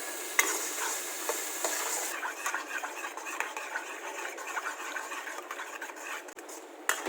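A sauce thickened with corn flour is whisked briskly in a pan over a gas flame, giving a continuous rapid scraping and swishing with a faint sizzle behind it.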